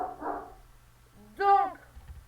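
Two dogs bark at a horse stable, a short burst of one or two loud, close barks after a quieter murmur of sound.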